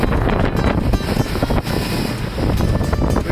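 Steady wind roars and buffets the microphone aboard a sailboat out sailing in strong breeze, with water and hull noise mixed underneath, loud and continuous with no voices.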